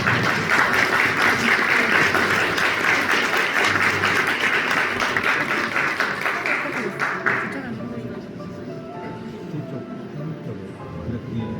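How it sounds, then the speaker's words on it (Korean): Wedding guests at a hall in Gwangju give warm applause, a steady wash of clapping that stays full for about seven seconds, then drops away, leaving quieter room sound with faint voices. "역시 여러분 따뜻한 박수로 크게 주겠습니다"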